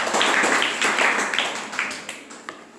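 A classroom group claps briefly for a student, with several quick bursts of hand claps that soon thin out into scattered taps.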